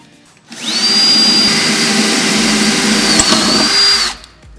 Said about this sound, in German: bohre ich mit dem Akkuschrauber erstmal ein Loch vor